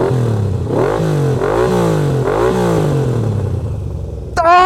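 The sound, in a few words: motorcycle engine idling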